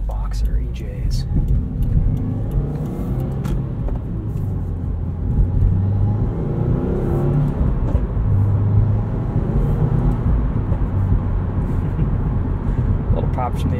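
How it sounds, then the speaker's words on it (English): A 2020 Subaru WRX with an FA20 boxer engine drives at night, its engine rumbling steadily while a voice talks over it and small exhaust pops break through between gear shifts. "Little pops from the exhaust there between gears."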